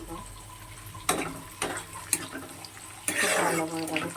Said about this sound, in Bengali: এতই জল পড়ছে